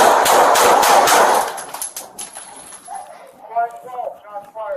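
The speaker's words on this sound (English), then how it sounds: "Shots fired." A rapid burst of loud gunshots cracks out during a police raid on a house, then stops as officers shout over the ringing aftermath.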